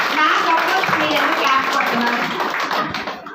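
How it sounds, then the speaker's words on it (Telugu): An audience claps steadily through a talk on a success journey, the dense clapping loud and continuous, with murmured voices mixed in, then tapering off at the end. "మీరెందుకు క్లాప్స్ కొడుతున్నారు?"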